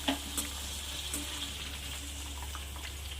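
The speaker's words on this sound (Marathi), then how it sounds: "शेंगदाणे पण तडतडले थोडे" Peanuts and chillies fry in hot oil for a peanut thecha chutney, giving a steady, even sizzle with a few faint crackles and clinks, and no talking.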